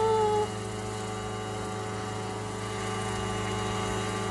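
An unmanned crop-spraying helicopter's engine drones steadily with a strong tonal hum and a rough low throb, loud and continuous with no talk.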